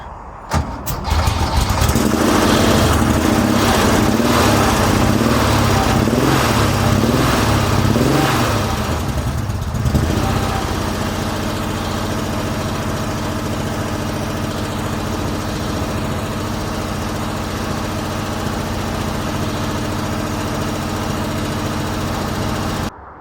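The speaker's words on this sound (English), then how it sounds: "when I turned the car on, this is what it sounded like" A Porsche engine cranks and catches after weeks of work, running loud and rough with a pulsing, uneven chug for the first ten seconds, then settling into a steadier, sustained idle drone close to the microphone.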